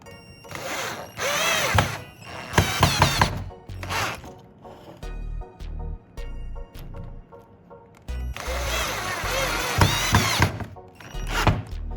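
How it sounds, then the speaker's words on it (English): Screws being driven into two wooden pieces with a power drill, heard as loud whirring bursts of the drill with thunks and pauses between, close up and without talk. "Next, I drive the screws to the holes to firmly secure the 2 wooden pieces together."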